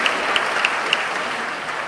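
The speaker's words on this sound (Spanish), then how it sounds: "Fuertes aplausos para el compa Eli, por regalarnos tantas risas en esta noche." Theatre audience at the Adolfo Mejía theatre in Cartagena applauds a storyteller during an oral narrators' summit, a steady, dense clapping with a few sharper claps standing out near the start, with no voices.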